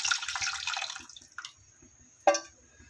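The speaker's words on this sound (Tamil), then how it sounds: "இப்போ நம்ம புளி கரைசல் கொஞ்சம் சேர்த்துக்கலாம்" Tamarind solution poured into simmering vegetable sambar in a home kitchen, heard as a short trickling pour followed by a few scattered drips and one sharper splash near the end, quiet and close.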